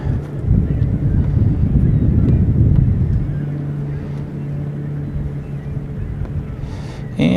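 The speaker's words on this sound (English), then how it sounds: "And we're picking up a little bit of wind." Steady wind rushing over the microphone aboard the Florence Spirit boat during a DJI Mavic Pro drone flight, loud and continuous with a low engine-like hum, a voice talking briefly near the end.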